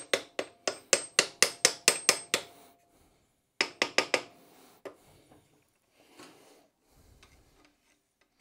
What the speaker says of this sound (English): I'm just tapping the screwdriver down the lengthways, so it's only prying it a tiny bit